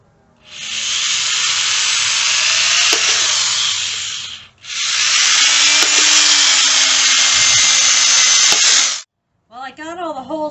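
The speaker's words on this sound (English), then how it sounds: "Unfortunately, I broke my drill bit in there." Power drill boring holes into a strawberry tower planter, two long continuous bursts of loud hissing, grinding drilling separated by a brief pause, followed by a short spoken voice at the end.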